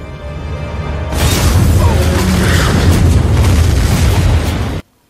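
A car blows up nearby during a film action scene: a sudden loud roaring blast that swells and rumbles for several seconds, then cuts off abruptly.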